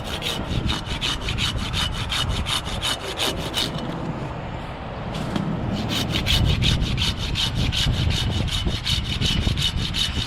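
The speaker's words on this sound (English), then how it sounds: "I try to use the handsaw for that kind of thing rather than a chainsaw" Steady back-and-forth strokes of a handsaw cutting wood, a rapid rasping rhythm that pauses briefly midway, then resumes close up.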